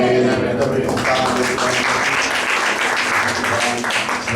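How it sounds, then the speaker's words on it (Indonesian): A church congregation applauds together, a dense, loud, steady wash of clapping that fills the room over a low musical drone, with voices mixed into the crowd. "Kita beri tepuk tangan."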